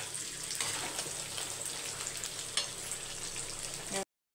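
Chicken frying in a pan for chicken 65, a steady dense sizzle with a few crackling bursts, close and moderately loud throughout, no voices.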